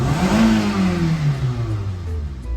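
A car engine in an automotive lab runs just after starting. Its loud, close hum drops in pitch from a brief high rev and settles into a steady idle, with no talk over it.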